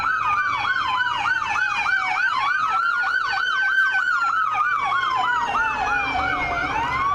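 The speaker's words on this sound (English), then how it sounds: "And now here comes an ambulance back this way." A close ambulance siren wails in a fast, repeating yelp, shifting to a slower sweep and back as it passes loudly.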